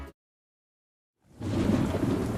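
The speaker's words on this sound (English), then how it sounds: "Man, it is really coming down out there." Heavy rain pours down in a steady, loud roar during a thunderstorm, breaking in abruptly after a brief moment of near silence and continuing as a dense downpour.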